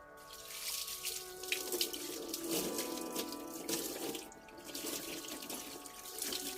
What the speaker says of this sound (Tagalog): maligo si Stanley Stanley maligo si Stanley